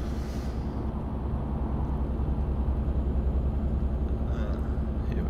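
A steady, droning truck engine from the Euro Truck Simulator 2 game, an old, very noisy cab truck cruising at constant speed, heard alone as a continuous low rumble.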